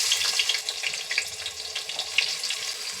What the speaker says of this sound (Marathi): कांदा आपण छान फ्राय करून घेऊ।